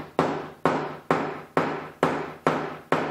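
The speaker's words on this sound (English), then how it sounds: "Now we just need the hammer so I can aim and drive" Hammer driving a screw into place: seven evenly spaced, sharp strikes about half a second apart, each ringing and decaying quickly, close and fairly loud with no talking.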